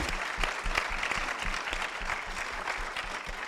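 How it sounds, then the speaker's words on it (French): Audience applause at the RATP Grand Prix Poésie 2023 award ceremony, dense sustained clapping from an indoor crowd, steady and fairly close throughout. "on peut encore vous applaudir"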